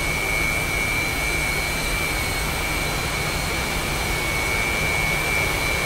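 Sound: low jet flyby in DCS flight simulator video game

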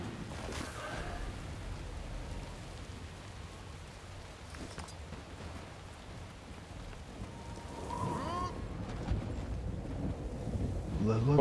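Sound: wind and rain of a storm in the video game Guild Wars 2

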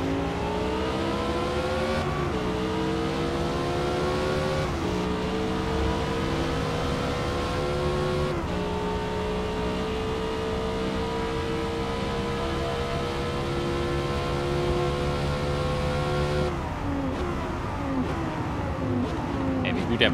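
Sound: Lamborghini race car engine on Yas Marina Circuit, video game

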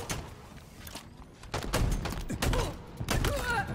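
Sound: shotgun firing in the video game Halo Infinite

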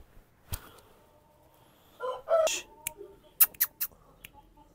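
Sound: Shamo chickens clucking and crowing after being released

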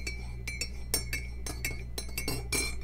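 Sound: spoon clinking while stirring coffee in a cup

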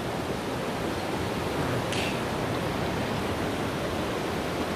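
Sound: waterfall in the Austrian mountains

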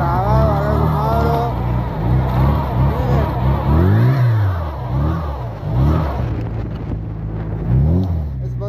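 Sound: stuck car engine revving, Fiat Duna

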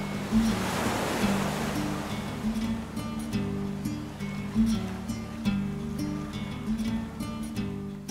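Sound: waves on Nakpan Beach, El Nido

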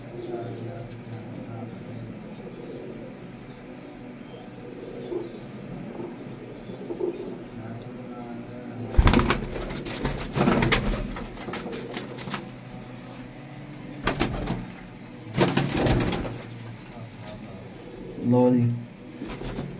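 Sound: pigeons cooing and flying

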